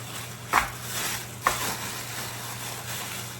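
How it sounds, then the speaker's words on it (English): Battered Thai-style pork chops frying in hot oil, a steady low sizzle throughout with two brief louder crackles as pieces settle, fairly quiet and with no talking. "And I'm gonna fry this right after."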